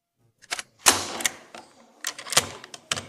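The bolt of an MG 42 machine gun being cocked, heard as a few close, sharp metallic clacks and sliding clicks in a quiet room.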